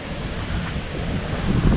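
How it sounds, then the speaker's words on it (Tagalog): Strong wind blows outdoors along the coast near Pagudpud, a loud, rushing roar buffeting the microphone continuously for a short moment, with no voices. "Lakas ang hangin."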